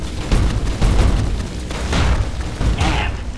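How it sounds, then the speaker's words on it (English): Missile launcher explosions in the video game Fallout New Vegas, a loud, close series of booming blasts and bursts that follow one another rapidly with a rumbling low end. "With the M235 missile launcher, we can engage ground and air targets at long range."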